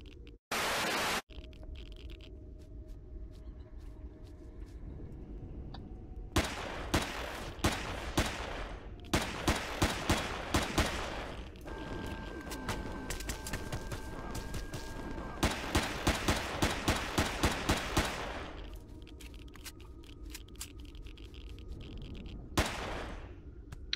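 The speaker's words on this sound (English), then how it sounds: "I can probably take it out with the pistol." Pistol fire aimed at a drone in the video game Empyrion: loud, sharp shots crack out singly and in rapid clustered volleys across the stretch, separated by quieter gaps of ambient game hum.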